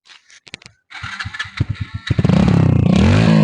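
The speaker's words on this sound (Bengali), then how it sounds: "স্টার্ট দাও তো বাইকটা।" A Hero Splendor motorcycle with a handmade custom silencer is kicked and sputters a few times, then catches and settles into a loud, steady idle with a throbbing rhythm.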